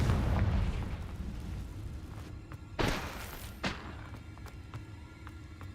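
Confringo spell from the Hogwarts Legacy video game: a deep rumbling blast with a sharp burst near the middle and a second thud soon after, over a low roaring game background.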